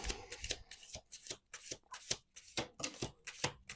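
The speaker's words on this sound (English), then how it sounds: "One more shuffle." Cards are shuffled in quick bursts of riffling and snapping, about a dozen rapid flutters, close and crisp.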